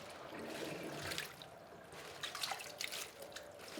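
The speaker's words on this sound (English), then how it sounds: "Just drain that water out." Water drains and trickles from a pot of washed turnip greens in a kitchen, a soft, uneven dribble with small splashy drips, fairly quiet and heard without talk.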